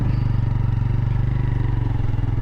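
A TVS Raider motorcycle rides along while making a U-turn, its engine holding a steady, loud, close low-pitched putter with a rapid pulsing rhythm throughout.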